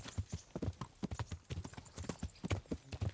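Horse hooves clop in a quick, uneven rhythm on hard ground in the video game Kingdom Come: Deliverance, close and distinct, with a faint whinny mixed in.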